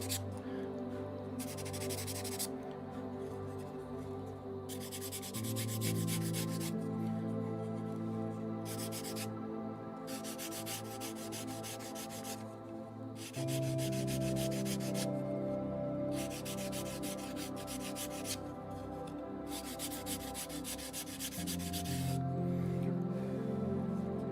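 Rough rhythmic scratching of sandpaper by hand on burned wood in long back-and-forth strokes, close and steady, with brief pauses between bursts over a low hum.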